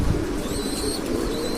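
Pigeons coo softly in a loft, a low murmuring call over a dense, steady background hum with no speech.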